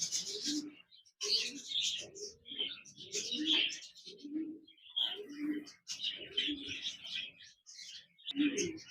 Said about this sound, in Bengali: এখানে দেখতে পাচ্ছেন একজোড়া ব্ল্যাক জামা পাখি রয়েছে